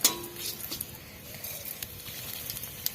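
Bay leaf and dried red chillies sizzle faintly in hot oil, a soft crackle with a few sharp ticks and light utensil taps near the start and end.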